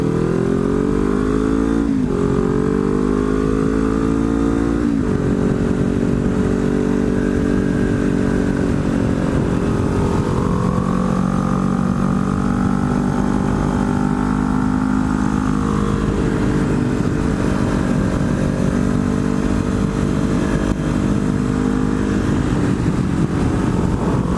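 A Kawasaki ZX-10R Ninja sport bike ridden on a winding road in the Sussex/Fundy area, its engine droning loud and close throughout, with revs rising and falling through gear changes and wind rush.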